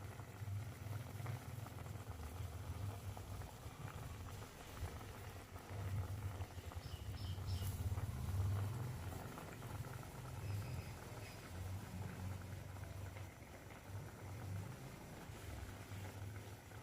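Potato curry in thin coconut milk with cinnamon pieces simmers in a pot on the stove, giving a faint, steady bubbling hiss with no voices.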